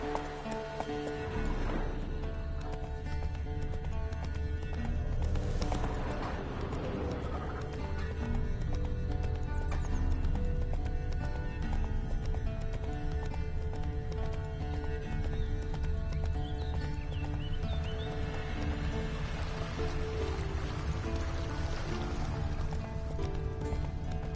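Roach, Geralt's horse in The Witcher 3: Wild Hunt, gallops with a continuous rhythmic clip-clop of hooves, over a low steady game backdrop with occasional snorts and a whinny, close and sustained throughout.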